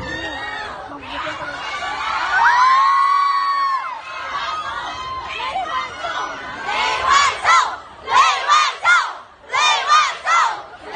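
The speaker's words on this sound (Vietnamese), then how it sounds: "chúng ta hãy chào đón một tràng pháo tay thật lớn" A crowd of fans at an event in Vietnam welcoming a director, loud high-pitched cheering and screaming that rises, dips, then breaks into repeated bursts of shouting, with applause mixed in.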